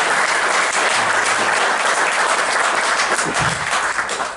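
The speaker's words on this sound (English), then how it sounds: "give them a round of applause" Audience applause at a museum talk in Branson, a full, steady round of clapping that stays loud and even throughout with no voices on top.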